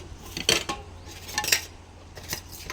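A spoon clinks and scrapes against dishes, a few bright metallic taps in short clusters, close and fairly quiet with no talking.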